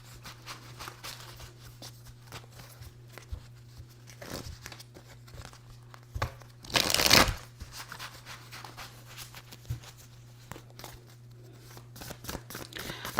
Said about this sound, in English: That was a bad shuffle. Let's try that again.